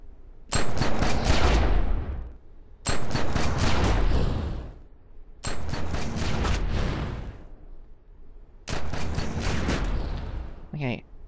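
Pistol fire from a video game skill demo, Killer Flow, in an Outer Ring setting: four loud bursts of rapid shots, each about a second and a half long, separated by short pauses, with a brief metallic whir at the end.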